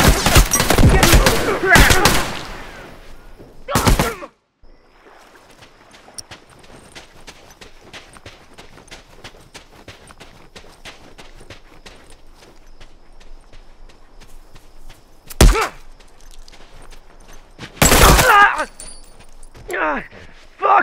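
Rifle gunfire in a multiplayer video game battle: loud bursts of rapid shots at the start, a quieter stretch of distant popping and clatter, then more sharp bursts near the end, with players shouting over it.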